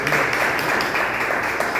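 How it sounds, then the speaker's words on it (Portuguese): A church congregation applauds during a worship service, a dense, continuous wash of many hands clapping together, with a voice faintly present underneath. "as palmas"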